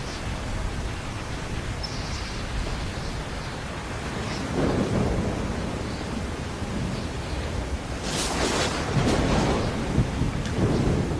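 A thunderstorm in the Assassin's Creed 3 video game: steady rain hiss under low rolling thunder that swells midway, then sharper cracks and rumbles near the end, fairly loud and with no talking.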